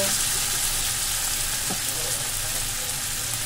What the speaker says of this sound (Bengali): টমেটো কুচি দিয়ে একটু ভালো করে নাড়াচাড়া করে মিশিয়ে নেব।